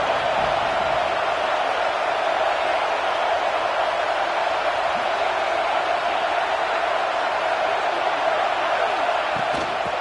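A packed college football stadium crowd at an Alabama game roars in a dense, continuous wash of cheering that stays loud and unbroken throughout, with no clear pauses or peaks.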